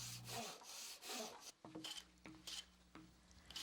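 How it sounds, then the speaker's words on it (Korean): A hand saw rips through a zelkova wood board clamped in a vise in a traditional Korean small-furniture workshop, producing a series of faint, rasping strokes in an uneven rhythm with no talk. "혈톱으로 자르면 느티나무의 결이 똑같이 대칭을 이루는 한 쌍의 문목판이 만들어진다"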